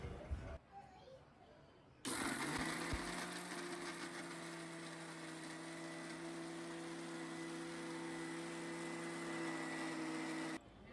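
Electric mixer grinder whirring loudly and steadily as it grinds thandai spices in a mixing jar, running for about eight seconds after a brief start, then cutting off; some speech beforehand.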